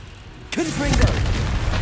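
A Confringo fire spell detonates in Hogwarts Legacy, a sudden loud close boom that rumbles on, with a voice calling out over the blast.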